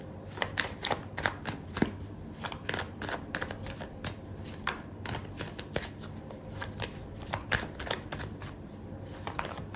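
Tarot cards being shuffled by hand, a quiet, close series of rapid papery riffles and soft slaps repeating irregularly, with no speech.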